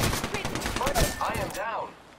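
Rapid bursts of gunfire from a multiplayer shooter video game crackle close and loud in quick succession, then cut off to near quiet.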